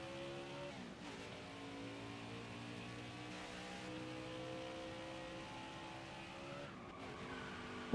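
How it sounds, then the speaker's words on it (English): Race car in a NASCAR Xfinity Series video game at Atlanta Motor Speedway, engine droning steadily with shifting pitch as tires squeal and skid through a spin-out, loud and continuous with no talk. "Whoa, I just spun out."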